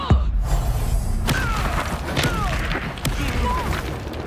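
Reducto blasting curse spell from Hogwarts Legacy, a sharp impact thump with crashing debris amid ongoing spell combat, while a voice speaks over the action.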